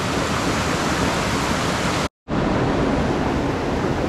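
River water from the Quinebaug roars steadily through the chute of the breached Fabyan Dam, a loud, constant broadband rush that cuts out for a split second mid-way.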